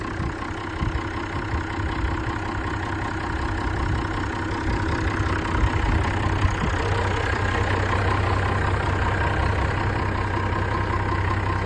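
Nuffield 10/42 tractor with a BMC 5.1 engine idling steadily nearby, a loud continuous low diesel rumble with slight knocking texture and no talk.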